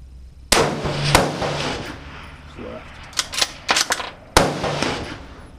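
Ruger Precision Rifle firing at long range toward a steel target plate, with several sharp, loud cracks spaced over a few seconds, some echoing, amid outdoor background noise.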